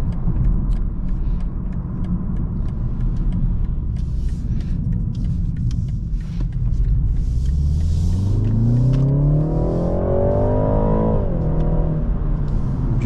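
A 2024 BMW 330i xDrive accelerates hard from inside the cabin, its engine note climbing steadily in pitch over a road rumble, then dropping sharply as the gearbox shifts up near the end.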